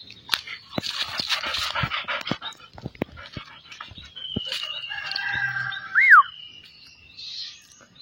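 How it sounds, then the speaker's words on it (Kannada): A golden retriever pants in quick, breathy bursts up close, followed by a rising whistle-like bird call and a distant crowing rooster. "ಅಮೇರಿಕನ್ ಟೈಪ್ ಗೋಲ್ಡನ್ ರಿಟ್ರೀವರ್ ಇವನು"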